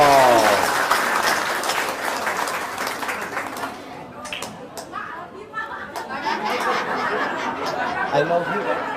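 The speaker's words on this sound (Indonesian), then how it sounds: "Tepuk tangan dong." An audience claps loudly at first, then the applause thins into scattered claps mixed with chatter, chuckles and voices talking over it.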